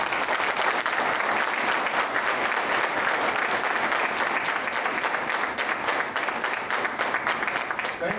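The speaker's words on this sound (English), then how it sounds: "Give IIEBM and all of you a great round of applause." Sustained, dense applause from an institute audience at IIEBM, steady and full throughout with no voices standing out.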